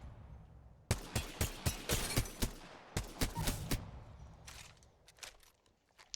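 Sharp G7 Scout rifle shots in Apex Legends, a steady run of loud, close single cracks fired in quick succession with brief gaps, then a few fainter, more scattered shots trailing off.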